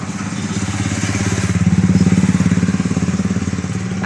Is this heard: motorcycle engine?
yes